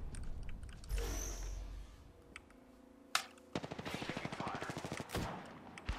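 Shotgun and sniper rifle fire in an online battle royale shooter, with a sharp isolated shot followed by a rapid burst of repeated gunfire and clatter, loud and close.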